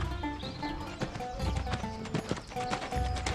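A horse's hooves clip-clop steadily as it arrives, a dense run of hoof beats mixed into busy film soundtrack with music and ambient noise, and a brief whinny may surface among the steps.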